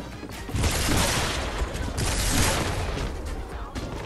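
Quad launcher rockets firing and exploding in Fortnite Battle Royale, a dense, continuous barrage of loud blasts and rumbling booms that lasts the whole stretch with no pause.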